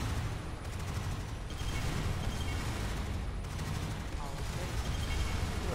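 Sustained gunfire from the video game MarZ: Tactical Base Defense, a dense, continuous fusillade of rapid shots with heavy booming low end, loud and unbroken throughout.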